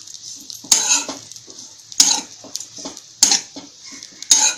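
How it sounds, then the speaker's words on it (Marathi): Grated coconut dry-roasting in a pan over a medium gas flame for onion-garlic masala, with intermittent metal spatula scrapes and clinks every second or so over a faint background. "खोबरं आपलं भाजत आलंय। गॅस मी मध्यम लावलेला।"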